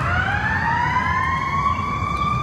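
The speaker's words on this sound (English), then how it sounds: "I'll never get used to the sirens of police cars and ambulances around here." A wailing emergency siren sweeps steadily upward in pitch, loud and continuous, with low traffic rumble underneath and no talking, on a humid street in Nashville.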